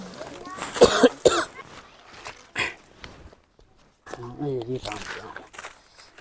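Several harsh coughs break out in an Awadhi-language comedy skit, close and abrupt, coming in short bursts with gaps between them, followed by people speaking.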